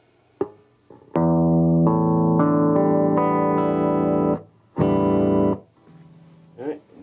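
Electric guitar played through a Monoprice/Laney 5-watt tube amp with its negative-feedback potentiometer set halfway, giving a few short picked notes, then a loud sustained chord ringing for about three seconds and a second brief chord.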